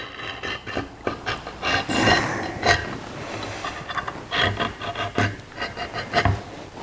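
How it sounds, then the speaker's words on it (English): A scriber drags across sheet metal along a clamped pattern while fabricating a front straight axle lift for a 1949 Chevrolet gasser, a steady close scratching and rubbing with small taps and knocks, no voices. "We've clamped our pattern to the metal and we'll just scribe it."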